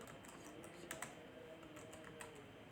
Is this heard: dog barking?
no